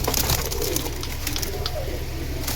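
Silver pigeons from a prized collection coo in a low, throaty burble, close and continuous over a short stretch, with no voices.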